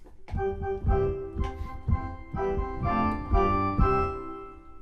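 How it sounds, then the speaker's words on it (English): A keyboard with an organ sound plays sustained chords in a steady, moderate rhythm, close and clear with no voices. "you'll notice I'm playing with an organ sound"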